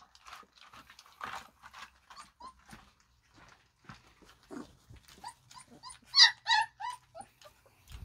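Three-week-old puppies whimper and yip in a quiet room, a string of high thin cries in short bursts, growing louder near the end, with no talk.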